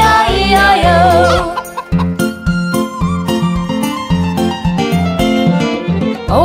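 Rhythmic chicken clucks sound within a bouncy children's nursery-rhyme farm song, mixed in with loud, steady musical accompaniment.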